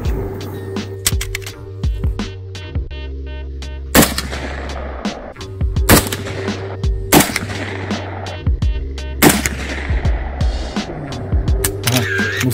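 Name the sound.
gunshots from Saiga TG-2 rifles at 50 meters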